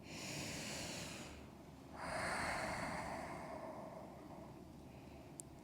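Slow, deep breaths during a yoga stretch, a long hissing exhale followed by a fuller, louder breath, close up and unaccompanied by talk.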